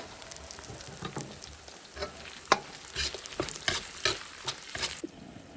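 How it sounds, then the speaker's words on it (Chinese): Five-spice herbs and small chillies are stir-fried slowly over low heat, giving a steady soft sizzle with repeated scraping and stirring strokes of a spatula in the pan, close and moderately loud, with no talking. "這個必須小火慢炒，大火它就會焦掉。"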